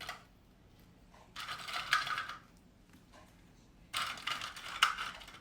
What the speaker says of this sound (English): Let's add the croutons right now.